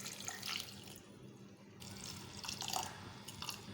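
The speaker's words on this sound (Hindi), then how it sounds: "अब हम इसमें शामिल करेंगे पानी।" Water pours from a tap into a pan of half-mashed chana dal for a dhaba-style dal, a steady close splashing stream that briefly thins and then resumes.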